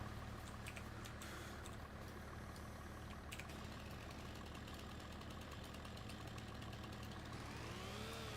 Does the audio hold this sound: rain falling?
no